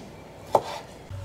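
A knife chops shrimp on a cutting board in a home kitchen: a single sharp chop near the middle, moderately close, in an otherwise quiet room, with a faint low thud at the end.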